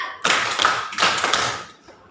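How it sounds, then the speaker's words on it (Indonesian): A teacher demonstrates a hand-clapping pattern in a classroom: two crisp, loud claps spaced about three-quarters of a second apart, each followed by a short ringing decay. "Tepuk 4-nya kayak gini ya"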